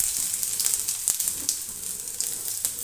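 Chopped ginger sizzling in hot oil with whole cumin seeds, a steady close bright frying hiss with small pops and crackles throughout, no voices.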